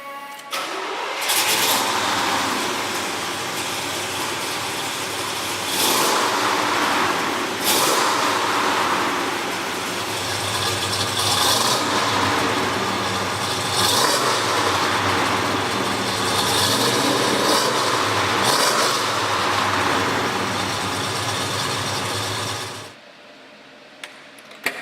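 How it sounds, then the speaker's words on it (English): A 1970 Chevy Chevelle SS big block engine cranks and fires, then settles into a loud, smooth idle with periodic surges close by, before cutting off abruptly near the end. "the engine fires up and runs as well as any big block Chevy we've ever featured"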